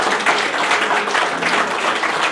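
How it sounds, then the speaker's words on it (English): A church congregation claps hands loudly and continuously at a prophecy service in Canada, dense overlapping clapping with no pauses. "Put your hands together for Jesus."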